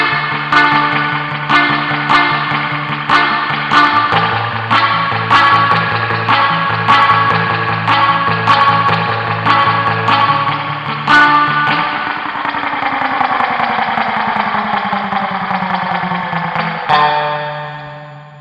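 An electric guitar with Mosrite-style pickups plays muted, plucked notes through heavy reverb. The neck and bridge pickups are set to half power and out of phase, and the notes ring out in a rhythmic run before a sliding, fading tail.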